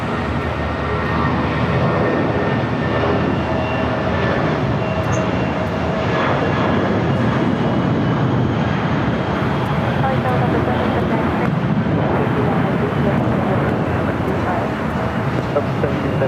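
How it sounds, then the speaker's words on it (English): United Airlines A320 jet airliner, freshly painted, at Los Angeles International Airport, producing a steady loud broadband engine roar throughout with faint radio chatter and voices underneath. "United Airlines Flight 2019 and a freshly painted A320 heading to SFO."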